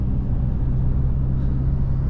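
Trucks driving along a rough road in Iran, a steady loud low rumble of heavy engines and tyres that holds without a break, with no talking.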